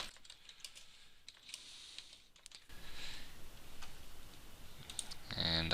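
Someone types text on a computer keyboard in design software, giving quick, light, close key clicks in short irregular bursts over a soft room hum.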